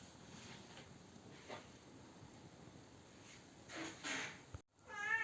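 A cat meows a few times, faint and somewhat distant, with one clearer, louder meow near the end after a short gap.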